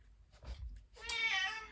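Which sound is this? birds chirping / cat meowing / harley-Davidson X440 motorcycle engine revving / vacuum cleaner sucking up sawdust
cat meowing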